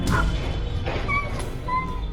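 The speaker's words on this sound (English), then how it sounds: "Within 3 hours, the dog started barking." A search dog at a collapsed structure gives a few short, loud barks and yips close by, amid rough background noise of the debris site.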